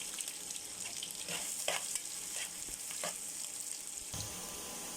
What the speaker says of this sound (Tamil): கருவேப்பிலை போட்டோடனே பொரிஞ்சிருச்சு, எண்ணெய் நல்லா சூடாக இருக்குது. இப்போ வந்து நம்ம வெட்டி வச்சா வெங்காயத்தை ஃபுல்லாக சேர்த்துருவோம்